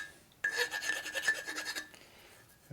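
A hand file deburring drilled holes in a 41mm motorcycle fork leg for a 1949-72 panhead or shovelhead: a quick series of short, rhythmic rasping strokes, close and fairly quiet, with no talking.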